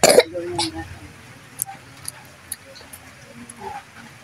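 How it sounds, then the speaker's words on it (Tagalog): Someone coughs sharply a few times right after eating, one strong burst at the start followed by smaller coughs and throat noises, with quiet talk around them. "Inuubo ka na dahil sa pagkain."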